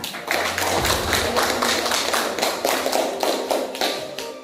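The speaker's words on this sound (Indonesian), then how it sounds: "tepuk tangan untuk kelompok peserta" A classroom full of participants claps for a group of peers, giving a dense, steady round of rhythmic hand clapping with a regular beat, heard close and on its own without voices.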